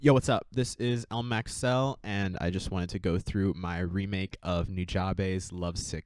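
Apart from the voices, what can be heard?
No distinct noise like a dog, phone or traffic.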